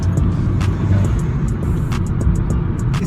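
A Vauxhall VXR engine with a stage 1 induction kit hums loudly and steadily from inside the cabin, a low throaty drone with slight fluctuations and faint clicks.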